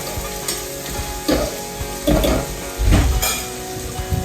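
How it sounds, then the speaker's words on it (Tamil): Onions, green chillies, curry leaves and bay leaf frying for a chicken curry, a loud continuous sizzle with three or four heavier bursts of stirring and scraping, no speech. "வெங்காயம், பச்சை மிளகாய், கருவேப்பிலை, பிரியாணி இலை இவ்வளவுத்தையும் நான் இதுக்குள்ள அப்படியே வதங்க போடுறேன்"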